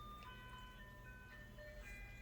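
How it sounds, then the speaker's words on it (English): An ice cream truck passes at night around 7:30, its tinkling chime melody carrying from a distance in thin, steady notes over a low background hum. "that's the ice cream truck at 7:30 at night"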